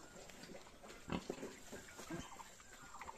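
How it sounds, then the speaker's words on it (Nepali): Pigs feeding on a farm, with soft grunts and wet chomping sounds rising in short bursts against a faint, quiet background. "कलौटीले पनि खाँदैछ।"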